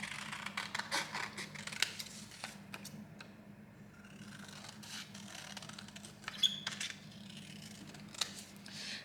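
Scissors cutting through paper for a paper plate dreamcatcher craft, heard as faint, close snips and crisp cutting ticks in irregular bursts with a quieter pause midway.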